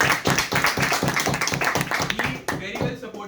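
A room of Toastmasters club members applauds at a farewell ceremony, with steady, dense hand clapping close by for a few seconds, a voice talking over it now and then.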